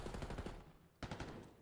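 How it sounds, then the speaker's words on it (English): Rapid automatic gunfire bursts rattle in a Call of Duty esports match, two short volleys separated by a brief pause, faint and distant in the mix. "Opening exchange of gunfire, not a whole lot of damage dealt."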